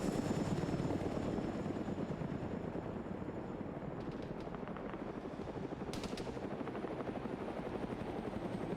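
A helicopter in the Arma 3 video game during a naval defense battle drones steadily throughout, a continuous rotor roar with brief bursts of what may be gunfire mid-way.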